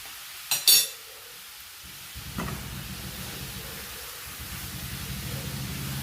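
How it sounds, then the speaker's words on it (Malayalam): An apple mixture with cinnamon, a pinch of salt and melting sugar being stirred in a pan, starting with two sharp clinks and then settling into a low, continuous bubbling hiss with faint spoon movement. "എല്ലാം കൂടെ നന്നായിട്ടൊന്ന് മിക്സ് ചെയ്യാം."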